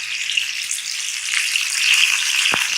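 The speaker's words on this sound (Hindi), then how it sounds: "एक साइड से अच्छी तरह से फ्राई हो जाएगा, इस तरह से मिलाते जाएंगे" Nargisi koftay fry in hot oil with a bright, continuous close-up sizzle, steady hiss with small bubbling pops, and one soft knock near the end; no one speaks.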